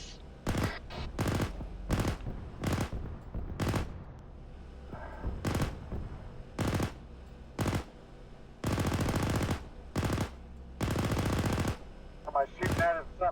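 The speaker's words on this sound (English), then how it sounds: "Somebody shooting at us something big from the left." Bursts of machine-gun fire rattle loudly in a military video game, several long automatic volleys and shorter rapid strings separated by brief pauses, with faint voices in between.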